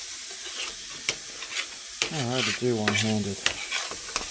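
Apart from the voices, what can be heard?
stirring and cooking palak paneer ingredients in a pan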